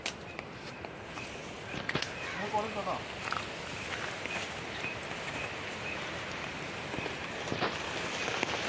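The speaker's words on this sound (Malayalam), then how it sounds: "ഓക്കെ ഗൈസ്, ഭയങ്കര മഴ പെയ്യുകയാണ്." Heavy rain pours steadily outdoors under a dark sky, a dense, even hiss that fills the whole stretch, with a few brief tonal sounds partway through.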